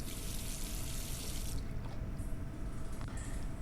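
Water running steadily in the point-and-click horror game The Last Door, a continuous splashing hiss whose bright upper layer drops away partway through, heard alone without talk.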